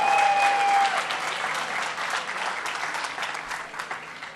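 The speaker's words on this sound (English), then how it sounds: "let's give them a round of applause and thank them for their unity" A rally crowd applauds union leaders on a podium, dense sustained clapping from many hands that swells at first and then holds steady, with a brief tone sounding near the start.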